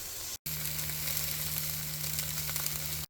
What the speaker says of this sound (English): I'm gonna add 1 cup of the lima beans into a medium heat pan